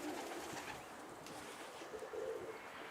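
Soft cooing of pigeons under a steady outdoor hiss, faint and somewhat distant.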